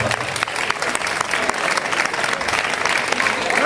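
A casting audience claps steadily for a young candidate trying out for princess and knight roles, the dense applause continuing at even loudness throughout.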